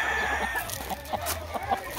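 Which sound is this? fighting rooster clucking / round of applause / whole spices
fighting rooster clucking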